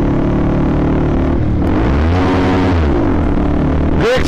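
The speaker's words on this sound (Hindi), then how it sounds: "साउंड है मस्त गाड़ी का" A car engine runs loud and close, its steady drone swelling into a rev that rises and falls before dropping off, ending with a brief higher-pitched whir.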